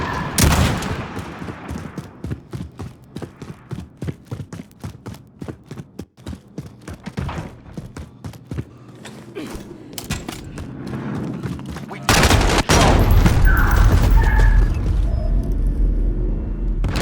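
A gun firing in Call of Duty Warzone: a long run of sharp, closely spaced shots, then a heavier, louder rumbling barrage of gunfire and explosions near the end.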